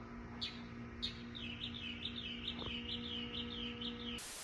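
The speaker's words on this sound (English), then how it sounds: "Since when do birds chirp at" Small birds chirp at night in short repeated high tweets, faint and somewhat distant, over a steady low electrical hum, ending in a sudden burst of noise.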